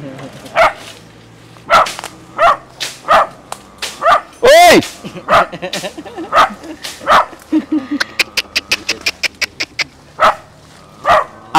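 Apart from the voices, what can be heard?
dog barking on a bamboo farm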